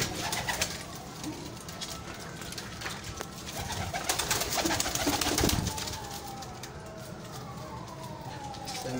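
Kasuri breeder pigeons in a Lahore loft coo softly and repeatedly against a noisy, fluttering background, fairly faint overall.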